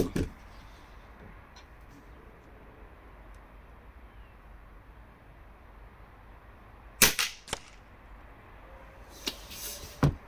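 A 4.5 joule air rifle fires a pellet into blocks of ice outdoors, giving a sharp crack followed by quick impact clicks, then another burst of snaps and cracks a few seconds later over faint background hiss.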